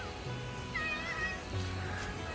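A pet cat gives a couple of short, close meows in a quiet indoor room, each call brief and clear against faint background hiss.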